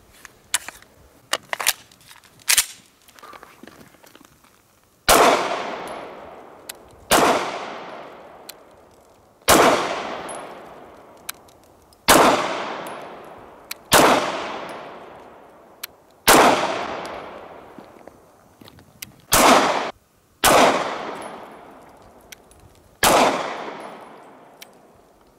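HK VP9 9mm pistol fired at an outdoor range: loud, close single shots spaced a couple of seconds apart, each with a long decaying echo, preceded by a few quicker sharp reports.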